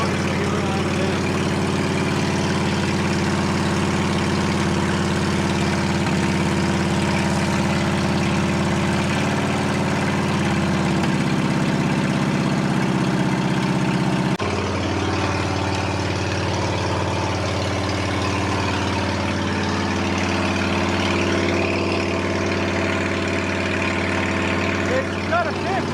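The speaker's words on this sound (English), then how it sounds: "So that's how an Onan should sound." Onan engine idling in an OMC Mustang 330 skid steer, a steady low rumble that runs throughout, with a slight shift in tone about halfway through.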